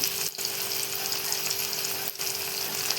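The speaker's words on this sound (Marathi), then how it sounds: "बघा खूप छान कांदा तांबा आपला मऊ झालेला आहे" Onions fry in a pan for an eggplant curry, making a dense, continuous close sizzle with a faint steady hum and two brief dips in the hiss.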